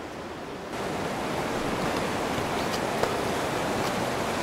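River water rushing over stones, a dense, loud, continuous roar that swells after a brief quieter opening and holds steady with no speech.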